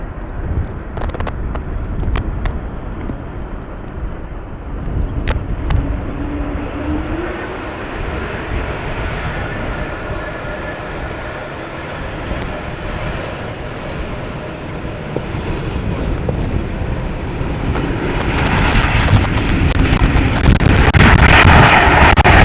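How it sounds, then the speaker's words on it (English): A Delta Airbus A330 arrives on runway 18R at Amsterdam Schiphol in rain and wind, a loud continuous jet roar that swells toward the end amid gusty wind buffeting and crackles, with no talk. "there's also a Delta A330 coming this way"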